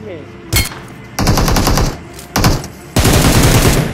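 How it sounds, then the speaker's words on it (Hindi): Gunfire in a battle royale shooter video game: four loud bursts of rapid automatic fire, the last the longest, separated by short quiet gaps. "एंड यहाँ पर एक बंदे को मैं मारता हूँ हेडशॉट"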